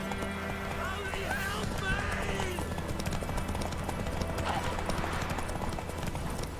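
Geralt's horse Roach trots in The Witcher 3, a steady clip-clop of hooves with occasional whinnies under continuous game music and a talking voice.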